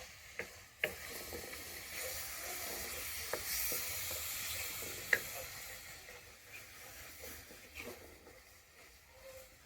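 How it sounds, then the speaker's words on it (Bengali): Onions sizzle softly in a pan while being stirred toward brown, a quiet, steady frying hiss broken by a few faint clinks and scrapes from the spoon. "যতক্ষণ না পেঁয়াজটা আমার ভাজা ভাজা হয়ে আসছে, মানে ব্রাউন কালার হয়ে যাচ্ছে, ততক্ষণ আমি এইভাবে নাড়তে থাকবো"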